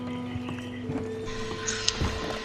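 Horse hooves clip-clop in a Wild West video game, an uneven run of hoof knocks under a steady ambient drone, moderately close, with no one speaking.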